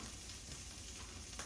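Onions hit a hot pan and sizzle in a steady, crackling fry, faint and close, with a brief extra spatter near the end.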